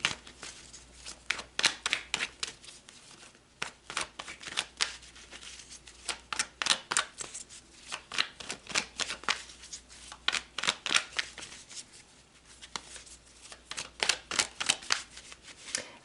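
A deck of tarot cards is shuffled repeatedly, with crisp riffling bursts and soft pauses in an uneven rhythm, close and fairly quiet, no voices.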